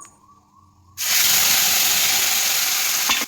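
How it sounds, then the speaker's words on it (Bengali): Ground green chilli, ginger and tomato paste hits hot oil with whole garam masala, dried chillies and bay leaf, bursting into a loud, sustained sizzling hiss after a quiet second, close and continuous. "মশলাটা ভালো করে ভেজে নেবো"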